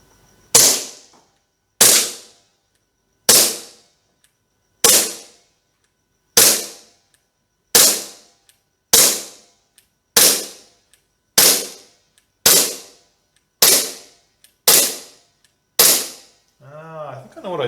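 A WE Tech Glock 17 airsoft pistol fires about a dozen sharp, loud, close single shots in a fairly steady rhythm, each crack decaying quickly, with a brief rattling sound at the end.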